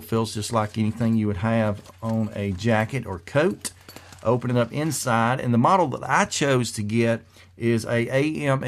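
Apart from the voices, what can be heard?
No distinct noise like a dog, phone or traffic.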